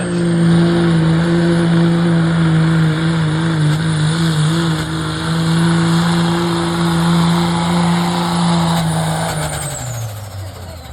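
A Cummins-powered Dodge pickup roars at a truck and tractor pull, its diesel engine droning loud and steady at high revs for about ten seconds before the pitch sags and the engine winds down.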